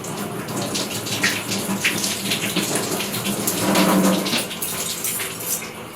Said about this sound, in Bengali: এখন যাই হাতটা ধুয়ে